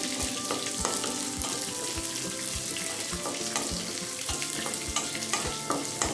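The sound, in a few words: shallots sautéing with green chillies in pan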